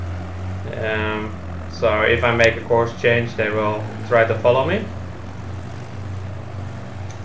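A steady, low propeller drone from biplanes flying in formation in a video game continues throughout, while someone talks over it in the foreground.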